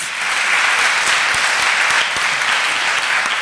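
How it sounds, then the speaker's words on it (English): An audience at a memorial lecture claps warmly, a dense and steady round of applause from a sizable crowd that holds for several seconds. "Can we give Prof a round of applause?"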